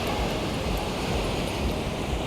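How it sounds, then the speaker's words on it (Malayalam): Sea waves wash steadily onto Varkala beach in the evening, a continuous, loud roar of surf mixed with wind buffeting the microphone, with no distinct breaks between waves. "നല്ല കടൽ, ഓളങ്ങൾ അടിച്ചു കയറി കഴിഞ്ഞ കടൽ"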